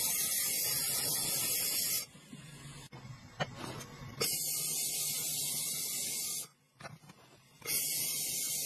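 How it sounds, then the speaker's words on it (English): A high-powered paint sprayer coats a roof with a loud, continuous hiss, broken by two brief pauses where the spray cuts out before starting again at full force. "See how a roof gets painted in seconds flat with a high-powered sprayer?"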